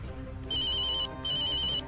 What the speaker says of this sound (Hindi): पंपी दा फोन?